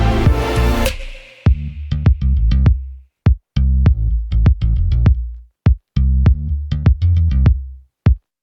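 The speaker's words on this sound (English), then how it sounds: "I basically stripped down the arrangement to only the kick, the Chapman bass, and the sub" Stripped-down pop arrangement with only a punchy kick, a plucked Chapman bass and a deep sub bass. It plays in short, syncopated bursts with tight gaps, opening with a brief sustained chord, close and loud.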